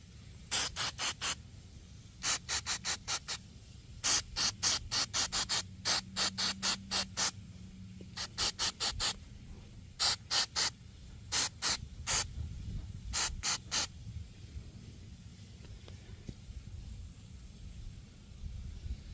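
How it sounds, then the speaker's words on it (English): Repeated short bursts of aerosol cleaner spray hiss close by onto a Chevy mass air flow sensor, in quick clusters of several squirts separated by brief pauses. "That's where we're going to spray the majority of this"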